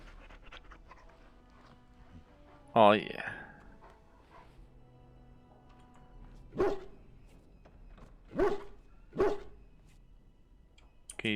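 Dog barking and panting in the fantasy RPG Dragon Age: Origins, a single sharp bark followed by three shorter yips spaced a second or so apart, with a voice speaking over the game audio.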